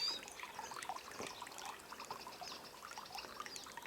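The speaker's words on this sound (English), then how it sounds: "There's a little spring up here, complete with a bathtub." At a small mountain spring with a bathtub on a hiking trail, water trickles and dribbles in a steady faint stream, heard alone in quiet outdoor surroundings.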